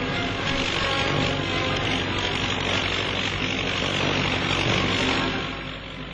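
A Heinkel He-59 seaplane drones by in flight, its propeller engine a loud, steady, dense roar that holds for several seconds and eases slightly at the end.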